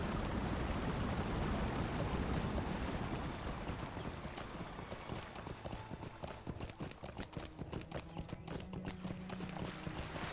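Horse hooves clip-clop steadily on a road in Lord of the Rings Online, a continuous rhythmic trot that fills the scene and softens a little midway, with no talk over it.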